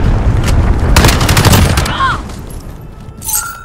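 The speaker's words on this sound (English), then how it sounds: "Allied cruise missile launched." A cruise missile strike in Call of Duty: Modern Warfare erupts as a loud, rumbling blast with crackling gunfire-like bursts, trailing off before a final short boom near the end.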